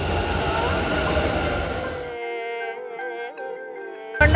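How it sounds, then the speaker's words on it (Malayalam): A Bangalore metro train runs with a steady rumbling roar, then drops to a quieter tonal hum inside the carriage before the noise briefly surges again at the end. "അപ്പോൾ നമ്മൾ മെട്രോ വഴിയാണ് പോകുന്നത്."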